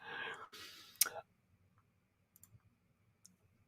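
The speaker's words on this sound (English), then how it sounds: "I'm clicking things" Faint, sparse mouse clicks at a computer sound in a quiet room, following a brief burst of soft breathy noise.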